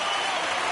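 Broadband crowd roar and cheering from a baseball stadium in MLB The Show 19, a steady loud wash of noise rising as fans get up for a three-ball count, with no clear voices standing out.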